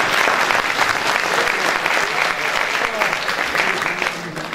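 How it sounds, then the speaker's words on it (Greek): Theatre audience applause at the end of a carnival revue performance, a loud sustained wash of many hands clapping that eases slightly toward the end, with faint crowd voices beneath. "Είναι χειροκρότημα για εσάς"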